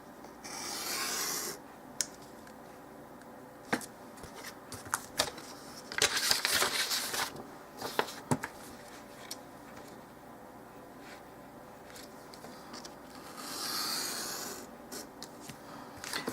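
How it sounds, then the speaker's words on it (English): Scissors or a craft blade cutting out a paper piece for a doll-size book, heard as intermittent close rasping and scraping strokes with short bursts and pauses, no talking. "now we're going to cut this piece out"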